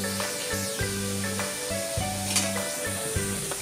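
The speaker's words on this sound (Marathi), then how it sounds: "मीठ घातल्यानंतर आपण हा कांदा अजून 2 ते 3 मिनिटे छान असा परतून घ्यायचा आहे" Chopped onions with salt sautéing in hot oil for methichi bhaji, a continuous close sizzle and hiss with soft stirring, accompanied by steady tonal background music.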